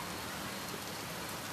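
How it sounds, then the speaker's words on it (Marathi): Monsoon rain falls in July in Kamothe as a steady, dense hiss with no pauses, heard faintly and alone. "मस्त पाऊस"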